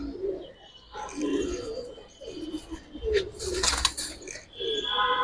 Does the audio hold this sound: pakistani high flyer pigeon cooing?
yes